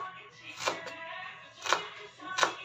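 An onion is chopped in a new manual kitchen chopper, giving three brisk, separate clacks close to the listener with a faint rumble between them.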